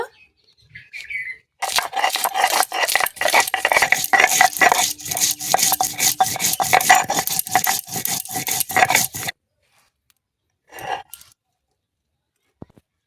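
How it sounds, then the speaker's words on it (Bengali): Green chillies are ground on a stone, a close, loud, rhythmic scraping and grating that runs for several seconds and then stops, followed by one brief scrape and silence. "লঙ্কা বেটে নেব"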